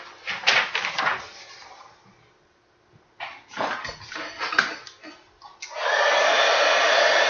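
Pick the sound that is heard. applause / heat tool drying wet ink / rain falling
heat tool drying wet ink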